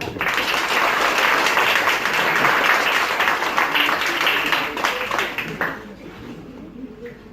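An audience at a hypnosis show at a lakeside campground applauds a volunteer, a full burst of many hands that stays strong, then thins and fades away near the end.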